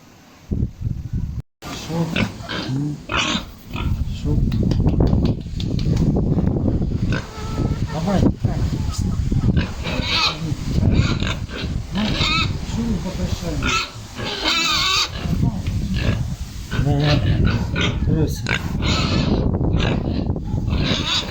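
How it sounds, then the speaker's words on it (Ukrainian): Pigs grunting on a village farm holding four fattening piglets about four months old and a sow, with steady close oinking and snorting throughout, loud and continuous, alongside a person talking. "Отакі свинки в нас гарні."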